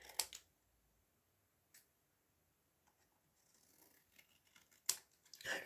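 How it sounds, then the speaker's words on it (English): Scissors snip fabric along the stitching of a tiny sewn pocket: a few sharp, quiet, close clicks spaced out over several seconds, separated by soft rustling of the cloth. "I'm definitely cutting off the two sides next to the stitching"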